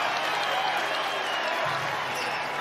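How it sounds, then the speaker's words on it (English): A basketball crowd inside Freedom Hall in Louisville roars and applauds in a steady, loud, dense wash of noise during a tournament game. "so is the crowd inside Freedom Hall"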